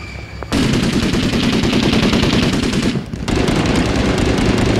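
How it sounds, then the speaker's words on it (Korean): Loud, close machine gun fire in the urban-combat video game Six Days in Fallujah, a dense continuous rattle that fills the whole stretch with only a brief dip in intensity near the end. "기관총 옆에 있으니까 아무것도 안 들려."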